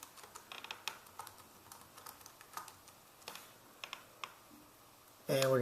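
Keys are tapped out on a computer keyboard while a username is typed at a Windows setup screen, with quick irregular clicks close up and faint. A louder burst of sound cuts in at the very end.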